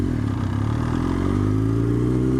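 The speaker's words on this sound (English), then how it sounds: "I stalled my bike." A motorcycle engine idles and labours steadily, close and loud, with a low rumbling drone that rises slightly in pitch, as the bike stalls during a hill start on an early road ride.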